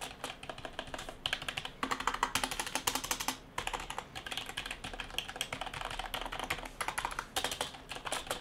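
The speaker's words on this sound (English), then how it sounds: "let me show you guys how it sounds" Fast typing on a cheap, modded membrane keyboard, dense clattery keystrokes in bursts with brief pauses, close up and with no talking.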